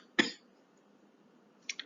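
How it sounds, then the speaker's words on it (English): A person gives one sharp, loud throat-clearing rasp, then a second brief, fainter one near the end, in an otherwise quiet room. "clear my throat."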